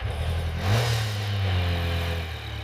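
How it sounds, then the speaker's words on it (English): Yamaha Tracer 9 GT triple engine idling rough and raspy just after a cold start, a steady close low drone that swells briefly near the start, with no voices. "The triple engine sounds raspy before it warms up."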